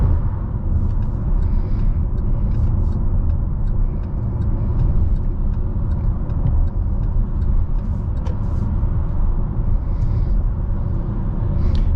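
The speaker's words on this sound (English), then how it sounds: "Let's see how this Buick handles on this corner." A 2023 Buick Encore GX cornering on the road, heard from inside the cabin as a steady, close, loud low rumble of engine and road noise that holds unbroken throughout, with no talking.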